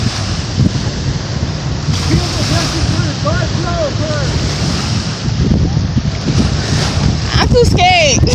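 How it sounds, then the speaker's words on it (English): Strong ocean waves surge and crash continuously at a Cozumel beach, loud and close, with heavy wind buffeting the microphone and faint voices underneath. "So the waves are whipping out. Like it was so strong."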